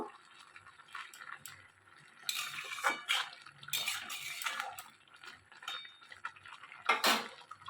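Spinach being stirred with salt in a pan for palak paneer, giving scattered clinks and scraping of utensil against metal, with brief louder bursts of clatter, close and without talk.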